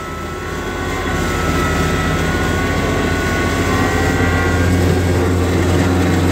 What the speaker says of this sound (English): The snow is as tall as the blower.